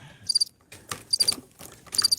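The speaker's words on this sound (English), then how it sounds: "I hear crickets." Crickets chirp in short, bright bursts, three quick clusters spaced across two seconds, played as a gag on a live Arkansas radio show after a flat joke, with faint background rustle between chirps.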